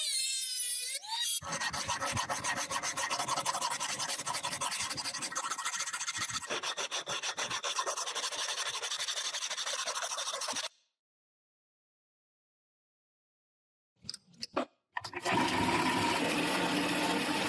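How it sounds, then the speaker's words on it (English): Several grinders rasp continuously against a steel katana blade forged from chain links, a loud dense abrasive whine that stops abruptly, leaves near-silence with two brief scrapes, then resumes loud. "a series of different grinders will come into play, each one refining this piece of steel more and more"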